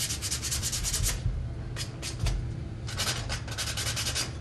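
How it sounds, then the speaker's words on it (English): Sandpaper rubs back and forth over painted wood in quick close strokes, a dry scratchy swishing in bursts with short pauses between. "Wait till it dries and then go after it with sandpaper again."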